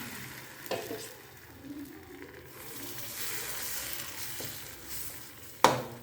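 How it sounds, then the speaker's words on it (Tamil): Pesarattu dosa batter of green gram with ginger, garlic, coriander and curry leaves sizzles on a hot stone griddle, a soft, steady frying hiss with a few scraping clicks of a spatula, the last one sharp and close. "இப்போ தோ கல் காஞ்சி காஞ்சிருச்சு தோசையை சுட்டலாம்"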